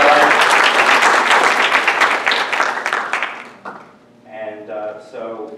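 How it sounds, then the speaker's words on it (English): Audience applause at an annual council member town hall, a dense burst of many hands clapping that fades out after about three seconds, followed by a voice beginning to speak. "we can give them a quick round of applause"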